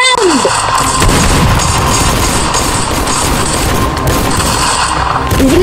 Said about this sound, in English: Using my shotgun.